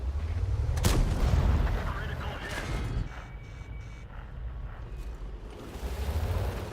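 In World of Tanks gameplay, artillery fire and shell impacts land as a heavy boom close by near the start, followed by further thuds and rumbling battle noise, with someone talking over parts of it.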